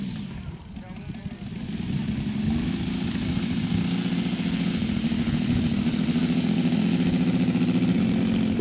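A vintage warbird aircraft engine runs steadily, loud and close as a continuous droning roar that builds slightly in the first seconds, with voices talking beneath it.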